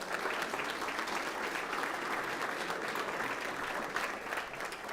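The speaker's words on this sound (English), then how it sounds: "Let's give him a round of applause as well." Steady, dense applause from an audience honoring a head coach at a Weslaco ISD school board meeting, sustained and fairly close throughout with no pauses.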